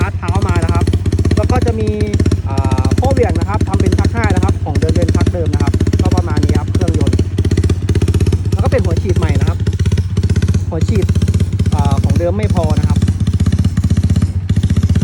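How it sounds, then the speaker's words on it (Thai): A Honda Wave 125 motorcycle engine, converted for dirt riding, idles loudly up close with an uneven, surging rhythm once warmed up, while someone talks over the rough running. "ตอนนี้ก็เครื่องอุณหภูมิได้ละก็จะหอบแบบนี้นะครับ"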